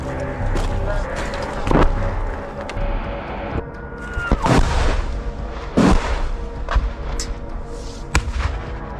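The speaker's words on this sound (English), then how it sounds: "Artillery fire makes any rapid movement impossible, pinning the enemy in place and forcing them to remain under cover." Artillery fire during close combat in a storm on Andriivka, Ukraine: several loud, sharp blasts with rumbling tails, irregularly spaced, over continuous battlefield noise and rustling, with people talking in between.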